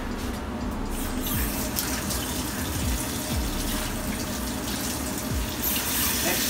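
Tap water runs steadily into a sink to rinse dry beans for a beef and bean chili, a continuous close splashing stream with a few soft knocks.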